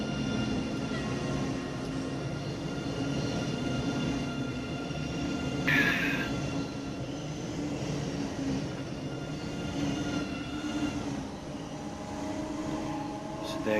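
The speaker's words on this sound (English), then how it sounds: "So there goes the train." A train passes in the railway simulator Train Sim World 2 on the Sand Patch route, a steady rumbling roar of rolling wagons that carries on throughout, with a brief squeal near the middle.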